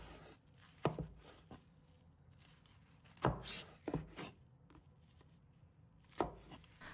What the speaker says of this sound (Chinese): 然后把它切成小段